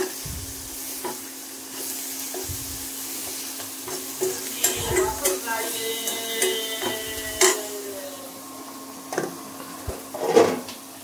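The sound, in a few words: onions and chillies frying in a pan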